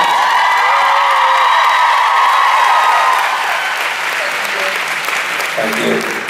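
Fan convention audience at a Supernatural event applauds loudly, a dense, sustained roar of clapping with scattered cheers and whoops that eases slightly toward the end.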